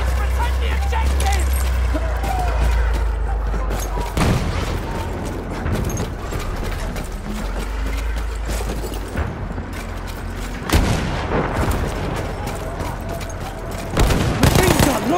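Machine gun fire in a video game battle on the Amiens map, a dense nonstop rattle mixed with booms and rumbling, while voices shout over the din.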